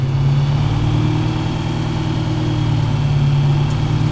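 A vehicle engine creeps along in low gear, giving a loud, steady low drone with a constant hum that runs unbroken from start to finish.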